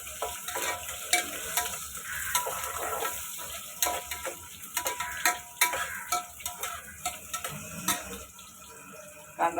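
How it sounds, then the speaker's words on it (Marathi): Onion frying in a pan toward golden, a moderate steady sizzle with frequent stirring clicks and scrapes, close by, alone without talk. "कांदा छान असा गोल्डन कलरवरती परतून घेणार आहे"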